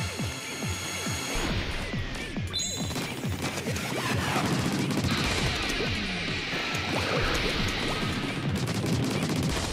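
A giant missile fires in the Splatoon campaign amid a dense burst of rapid cracks and crashing impacts, loud and continuous, with explosive bangs layered over steady game noise.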